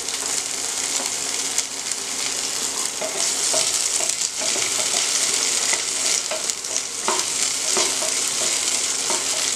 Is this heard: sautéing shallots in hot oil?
yes